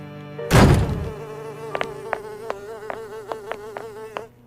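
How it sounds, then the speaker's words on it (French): A housefly buzzing in a French animated cartoon, a thin whining drone that starts after a brief loud thump and holds steady, broken by a string of sharp little clicks and taps, close and clear with no talking. "Oh, une mouche."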